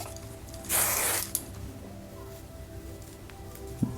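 A brief burst of aerosol hairspray sprayed lightly while styling a French roll, a single bright hiss lasting under a second, close up, followed by quiet handling sounds.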